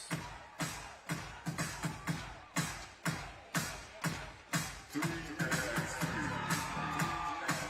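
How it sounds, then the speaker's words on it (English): At a FIBA 3x3 basketball World Tour Masters event in Abu Dhabi, loud rhythmic claps from handheld clappers pound out a regular beat with the crowd, then blend into a sustained roar of cheering and noise. "They got the clappers making a bunch of noise"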